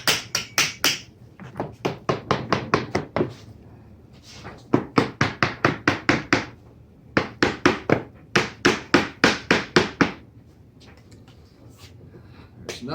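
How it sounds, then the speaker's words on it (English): Repeated tapping along the edges of a concrete countertop mold to loosen it, sharp close knocks coming in quick bursts of several strikes separated by short pauses, with no voices. "Gently tap along the edges to try and loosen things up."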